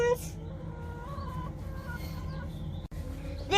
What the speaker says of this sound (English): We have 6 chickens.